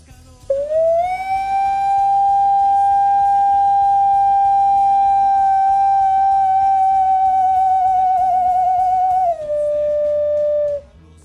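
A pre-Hispanic clay whistle sounds a single loud, sustained pure tone for about ten seconds, wavering slightly and dropping in pitch near the end.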